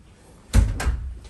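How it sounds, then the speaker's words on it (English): A house door is pushed shut indoors, giving one muffled thud followed by a softer second knock as it settles. "Just shut the door."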